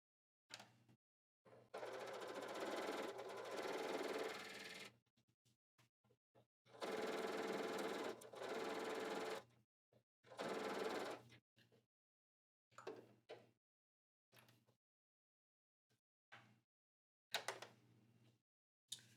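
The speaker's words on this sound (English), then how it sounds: "Now I need to sew from the side to the center." Sewing machine stitching fabric from the side toward the center in several bursts of a few seconds each, a fast steady whir that stops and starts, heard alone and close.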